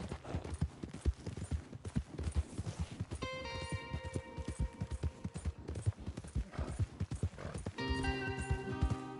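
Several horses trot in the video game Red Dead Redemption 2 with a steady, busy clip-clop of hooves, close by, with brief tonal game music swelling in at moments.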